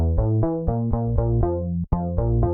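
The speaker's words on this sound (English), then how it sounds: "I'm using sawtooth and a square sub." Ableton synth built from a sawtooth oscillator with a square sub, playing a steady run of sustained harmonic notes that change pitch every few tenths of a second, with one brief dropout near the end, loud and alone.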